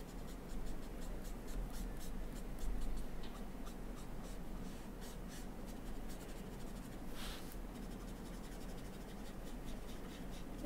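Copic alcohol marker with a stained nib being worked across highly absorbent paper, a steady soft scratchy scribbling that runs continuously and close up, with no voices.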